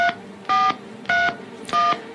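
A telephone number is dialed with DTMF keypad tones: four evenly spaced electronic beeps, each a clean two-tone burst, played alone with short gaps of quiet between them.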